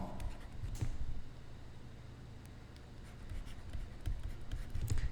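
Chalk or marker writing math on a classroom board, a steady scratchy scraping with short strokes and taps, close and continuous with no talking.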